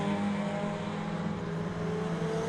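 Alfa Romeo Championship race cars lapping Donington Park, a steady blended engine drone with no distinct pass-by, continuous and fairly loud.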